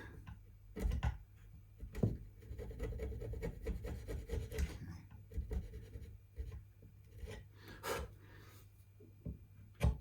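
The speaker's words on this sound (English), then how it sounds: "use the nut file thing, and see if we can just level it out." A nut file rasps across the nut of a cheap DIY guitar kit in short, uneven back-and-forth strokes with small ticks and taps between them, close and fairly quiet.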